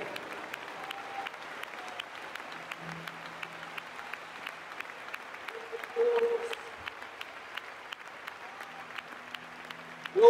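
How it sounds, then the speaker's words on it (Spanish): Steady, moderately distant applause from a church congregation at a Pentecostal convention service in Cali, sustained throughout with crowd murmur and a few brief voices rising near the end. "Un fuerte aplauso para ti."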